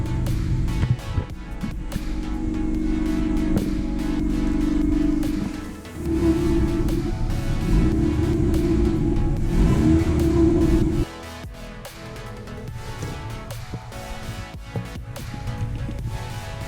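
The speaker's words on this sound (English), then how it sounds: "the engine finally fired into life" An abandoned Mazda's engine runs steadily just after starting, a loud, low, continuous drone that shifts in pitch as the idle changes, then settles to a lower, rougher tone near the end.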